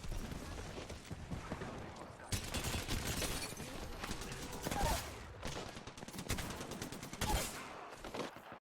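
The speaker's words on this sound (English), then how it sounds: "I shot him with the Havoc and then the Massive right after right there." Rapid bursts of Havoc rifle gunfire in the video game Apex Legends, dense and loud, with sustained automatic volleys and sharp impact cracks throughout, mixed with other weapon fire in a close firefight.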